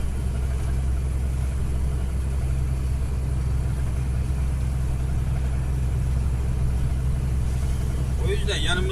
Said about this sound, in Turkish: Yanımızdan geçen arabalar